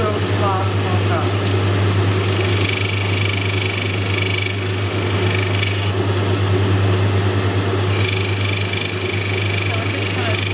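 Opal being shaped against spinning grinding wheels, a steady motor hum beneath a gritty rubbing and scraping of stone on the abrasive, continuous throughout while a person speaks over it.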